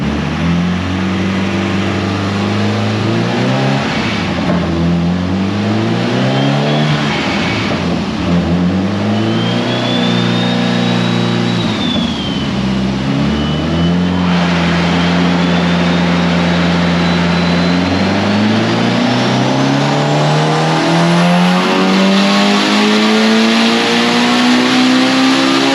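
A built Mitsubishi Evo 8 engine on a dyno pull, loud and close, with the revs rising and falling in long sweeps before climbing steadily in one sustained pull, a high turbo whistle riding above the roar.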